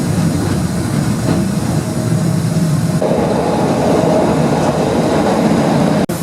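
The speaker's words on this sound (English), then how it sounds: "this tram has a DC pulsing system" A Blackpool tram with a DC pulsing system rolls along steadily with a loud, continuous rumble of wheels and motor, the tone shifting slightly midway, no voices.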